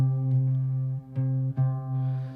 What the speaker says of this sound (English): So that's the sound of a unison.